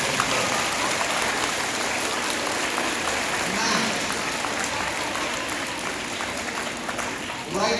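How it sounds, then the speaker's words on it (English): A room of junior high students claps, a dense, even patter of many hands sustained throughout at moderate volume. "Go ahead and clap for great sport."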